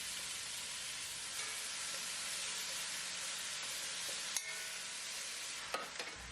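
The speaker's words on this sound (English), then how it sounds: "Once everything is in the pot, stir to combine." Tomatoes and other ingredients are stirred together in a single pot, a steady, fairly loud sizzling and scraping with a few sharper knocks near the end.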